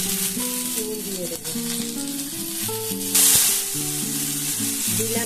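Mustard seeds, curry leaves, ginger and tomato tempering in hot oil, a steady sizzle with a loud hissing burst partway through, all under melodic background music.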